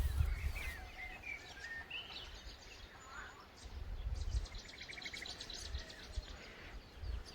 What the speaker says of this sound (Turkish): Kuşların sesine, çağıl çağıl akan derenin sesine